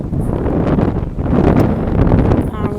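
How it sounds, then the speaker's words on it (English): Strong wind gusting hard across a microphone outdoors while ridge riding, a loud continuous roaring buffet with surging rises and dips. "Crazy windy today."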